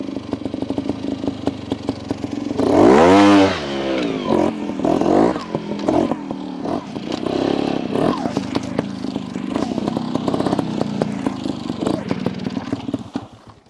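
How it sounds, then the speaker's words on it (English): A 2022 Beta Evo 300 trials motorcycle revs high and pulls away, a sharp rising engine wail early on followed by choppy throttle bursts and a lower running drone, with a person talking over much of it. "On that takeoff just then, you'll notice they rev high, and as you let go of the clutch, she starts to dig in."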